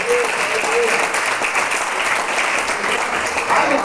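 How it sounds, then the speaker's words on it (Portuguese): Steady, dense applause from a large church congregation fills the whole stretch at a loud, even level, with no pauses. "Dá uma salva de palmas ao Senhor."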